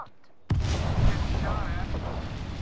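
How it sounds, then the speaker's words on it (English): Thermite grenade going off in the Apex Legends battle royale game, a sudden loud burst after a brief quiet, then a sustained fiery roar and crackle with a voice speaking over it. "Thermite grenade out!"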